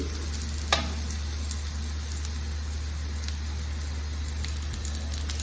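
Mustard seeds, sesame seeds and rye tempering in hot oil for Gujarati patra, a steady soft sizzle and crackle with a few louder pops, close and continuous, no voices.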